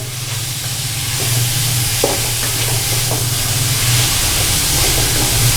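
Chinese fried rice with hot sauce and lemon juice is stirred and tossed in a hot pan, giving a loud, continuous sizzle and hiss with occasional scraping of the spoon, and no talk.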